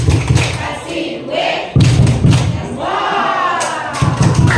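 Classroom audience of teachers clapping a rhythmic 'tepuk wow' clap chant, bursts of group claps and thuds with crowd voices shouting along, loud and close.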